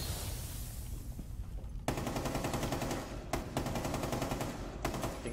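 Video game gunfire rattles in rapid automatic bursts, loud and close, with sharp breaks between volleys and no speech over it.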